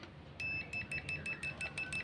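Multitester continuity buzzer used while repairing a switch on a Zoom G3Xn effects unit, sounding in a rapid series of short, faint, high-pitched beeps as the probes tap contacts in an irregular rhythm.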